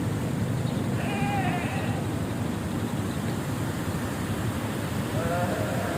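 Goats in a goat pen at Katulampa, Bogor, give two faint bleats, one early and one near the end, almost buried under a loud, steady rushing roar.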